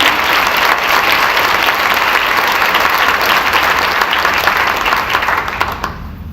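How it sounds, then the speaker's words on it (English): Breakfast-event audience gives a sustained round of applause for a guardian ad litem volunteer, loud dense clapping from a crowd that tapers off near the end. "let's give a round of applause to Tiffany"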